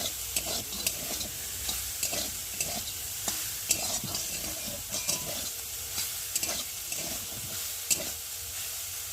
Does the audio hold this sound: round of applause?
no